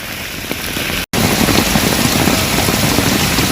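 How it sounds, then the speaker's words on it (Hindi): Heavy monsoon rain pours steadily onto a flooded road in Vijayapura, a dense, continuous hiss of close, loud rainfall broken by a single brief dropout. "देखिए कितना अच्छा बारिश आ रहा है"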